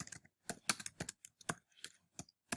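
Someone types on a computer keyboard, tapping keys in short irregular clusters of close, crisp clicks with brief pauses between, and no talking.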